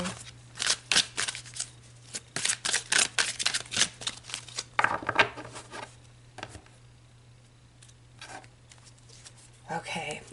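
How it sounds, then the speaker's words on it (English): Tarot cards are shuffled in quick papery riffles and taps, several bursts in a row, then a pause, with a low steady hum underneath and brief talking. "If I could shuffle."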